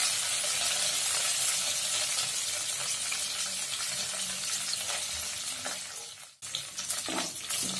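Dried red chilies and curry leaves fry in hot oil for tomato rice, a loud, steady crackling sizzle that fades slightly, breaks off abruptly, then resumes more unevenly.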